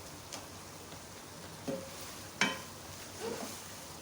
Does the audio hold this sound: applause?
no